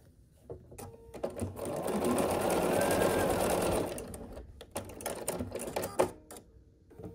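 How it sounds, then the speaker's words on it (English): A sewing machine stitching quilt block strips runs in one steady whirring burst for a couple of seconds, close and clear, bracketed by quieter handling clicks and fabric shuffling before and after. "Basically, you're just sewing these in a strip of 3 like that."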